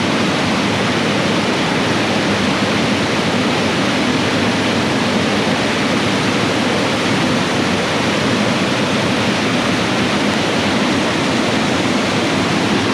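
Loud, constant rush of a fast-flowing creek in the rain near Cascade Falls, Mill Valley, a dense unbroken roar close by that never lets up, with no voices.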